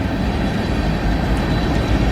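Hopper cars of a mixed freight train roll past close by, a dense, steady rumble of wheels and rail noise without a break.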